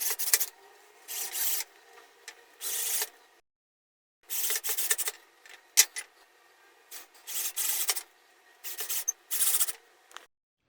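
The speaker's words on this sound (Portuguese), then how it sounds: "Agora eu vou terminar de parafusar as partes de baixo." A screwdriver drives screws into the lower panels of a wooden shoe rack, heard as close bursts of rasping, grinding turns separated by short pauses and one silent gap.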